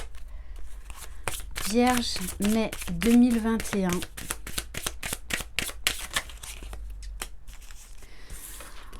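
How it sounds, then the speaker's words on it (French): Oracle cards are shuffled close up in a rapid run of crisp, papery riffles and slaps, while someone speaks French over the first part. "On va prendre une ou deux cartes de l'oracle de la fée Laura."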